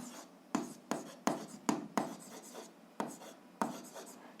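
Pen strokes on paper while working a 7th-grade algebra exercise, close and fairly quiet, with about nine crisp scratching strokes in an irregular rhythm and no talk.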